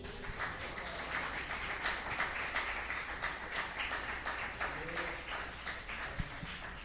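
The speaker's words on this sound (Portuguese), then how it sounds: "Dá uma salva de palmas para Jesus." A church congregation claps together in a sustained round of applause, a dense rhythmic patter of many hands, fairly faint and steady for several seconds.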